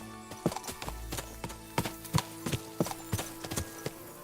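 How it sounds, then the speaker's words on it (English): A black horse's hooves clip-clop in a steady, moderately paced rhythm on a woodland path in Kingdom Come: Deliverance II, fairly quiet and close, with no talking. "A horse? What's it doing here in the woods?"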